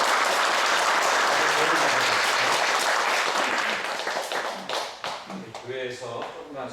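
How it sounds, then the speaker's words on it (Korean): A church congregation applauds loudly and steadily to welcome a new family, then the clapping thins and fades as a voice begins speaking over the last scattered claps. "박수로 환영하겠습니다."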